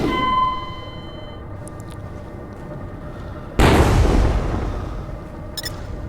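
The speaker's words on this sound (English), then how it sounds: "Missile away." Space combat in Infinity: Battlescape: a missile streaks away with fading electronic tones, then a loud, sudden blast erupts and rumbles down over a couple of seconds, followed by faint metallic pings.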